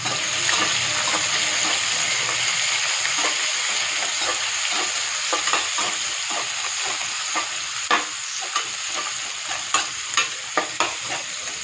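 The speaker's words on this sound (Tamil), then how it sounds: "இதை நல்லா வதக்கலாம்" Green chillies and onion sautéing in a pan for chow chow sambar, a loud continuous sizzle with repeated scraping stirs of a spatula that grow sharper and more frequent toward the end.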